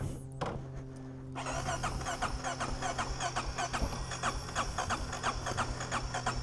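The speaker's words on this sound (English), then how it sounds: "So this is going to be a nice cold start here." A 2025 Honda XR650L motorcycle cold starts after a brief crank, then settles into a close, steady rapid thumping idle, with no speech.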